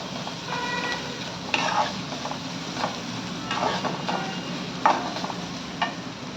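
Cabbage and other vegetables sauté in a pan for homemade veg hakka noodles, a continuous soft sizzle broken by intermittent clicks and scrapes of a spatula stirring against the pan.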